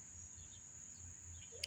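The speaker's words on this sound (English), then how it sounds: "The crickets are out." Crickets chirp at dusk in a garden as a steady, faint high trill runs unbroken under quiet low rumble, with a brief sharper chirp near the end.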